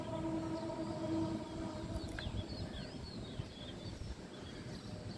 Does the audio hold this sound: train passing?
yes